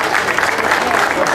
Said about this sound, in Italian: Una bella foto e un grande applauso.